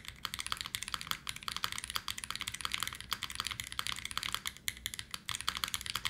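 A magnetic keyboard is typed on rapidly and continuously, a dense stream of crisp, close key clicks and clacks with uneven rhythm and no talking.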